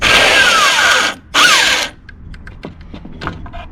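Power drill driving square-head screws into wood while a sink cabinet is built: two loud, close whirring bursts, the second shorter and ending in a thunk, followed by quiet scattered taps and clatter.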